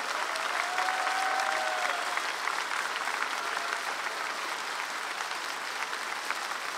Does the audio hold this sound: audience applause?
yes